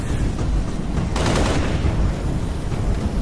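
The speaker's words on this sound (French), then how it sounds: "L'ennemi me tire dessus!" Dense, continuous gunfire and booming impacts during a Halo Reach battle, loud and sustained throughout with a sharper flurry of shots near the middle, no voices heard.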